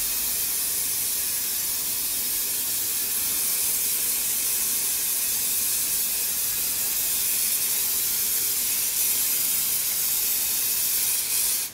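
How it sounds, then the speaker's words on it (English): An aerosol spray can coats a vase with a steady, continuous hiss of paint that holds at close range, loud and unbroken, for the whole stretch with no talking. "So I only wanna spray half of the vase now, and try to do it as like evenly as you can."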